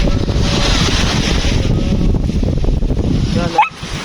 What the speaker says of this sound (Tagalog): Sarap pakinggan ng mga tunog ng alon dito sa Mamon Island.